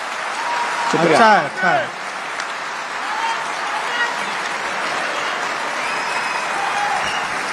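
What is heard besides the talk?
audience applause for a poem recital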